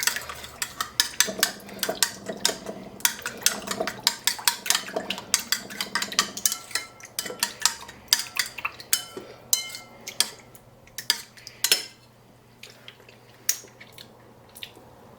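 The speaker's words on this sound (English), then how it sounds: "And then we're just stirring it all around." Tomato paste being stirred in a pan, a rapid run of scraping, clicking utensil strokes against the pan with wet squishy texture, close and fairly loud, thinning out toward the end, no speech.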